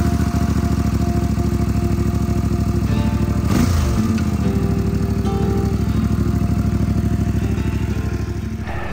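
An MT450 adventure motorcycle engine runs continuously up close, a loud steady thrumming with a short blip of revs partway through before returning to an even idle-like drone.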